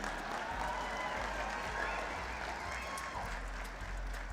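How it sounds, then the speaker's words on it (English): Applause from a high school sports awards audience in Greater Akron, a steady wash of clapping held at an even level throughout, with a low hum running underneath and some speech-like murmur mixed in. "can we have another applause for that curly mullet that just took the stage?"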